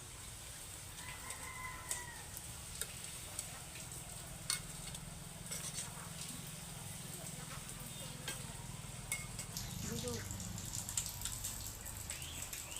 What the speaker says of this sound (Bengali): লাল লাল করে আমি আবার ভেজে নিচ্ছি